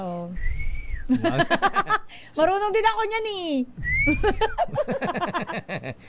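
A person whistles to call the wind for kite flying, giving two short, clear tonal whistles between bursts of lively talk and laughter from several speakers.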